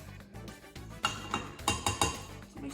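Pizza dough ingredients being mixed in a bowl, a quiet series of clinks and knocks from a utensil against the bowl in an uneven rhythm, heard close up with no talking.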